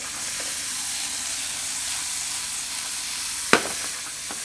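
Sea bream sizzling in olive oil in a pan, a continuous even frying hiss with one sharp metallic clink partway through.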